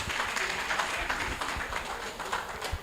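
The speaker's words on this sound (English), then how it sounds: "A round of applause for him," Audience applause at a civil engineering graduate induction ceremony, honouring the head of department: a steady wash of many hands clapping throughout, moderately loud and unbroken.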